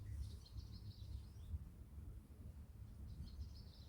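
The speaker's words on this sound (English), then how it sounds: "the sound of the chirping birds renting the air" Faint bird chirps drift in from a distance over a steady low rumble, scattered high calls coming and going.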